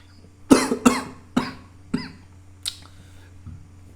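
A series of about five or six dry coughs, spaced irregularly and fading slightly, close by with a quiet hum behind.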